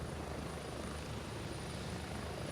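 Continuous helicopter rotor drone in a video game, a loud, steady thudding wash of noise that fills the whole moment without talk.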